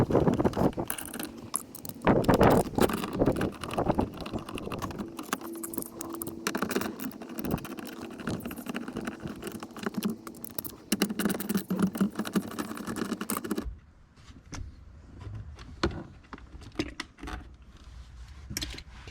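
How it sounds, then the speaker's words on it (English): A wrench or ratchet working four bolts on the shifter of a 2002 Toyota 4Runner, close clicking, scraping metal and small clinks that thin out into a few scattered taps. "I'm going to be removing these 4 bolts"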